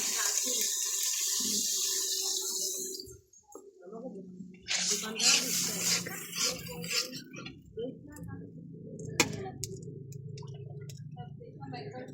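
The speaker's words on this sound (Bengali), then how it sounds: "এবারে দিয়ে দেব ঝোলের পানি" Water poured into a simmering fish curry to make the gravy, a steady close rush of pouring followed by bubbling and clinking of a utensil in the pot.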